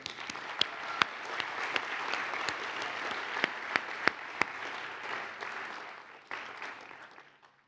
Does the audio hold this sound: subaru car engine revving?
no